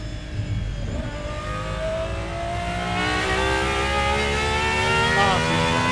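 A Gordon Murray GMA T.50s with a V12 engine revs and accelerates on track, a loud rising engine note building steadily, with faint talking nearby.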